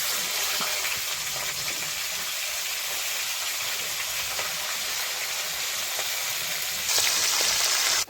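Nigella seeds and slit green chillies sizzle steadily in hot oil, a dense close crackle that holds evenly throughout and swells a little louder near the end.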